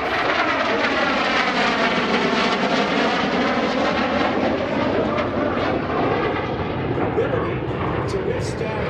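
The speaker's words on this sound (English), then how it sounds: "Falcon, the YF-16 built by General Dynamics, now Lockheed Martin" An F-16CJ Fighting Falcon, built by General Dynamics, now Lockheed Martin, roars past at an airshow at NAS Oceana, a loud continuous jet-engine roar with sweeping tone that stays steady throughout.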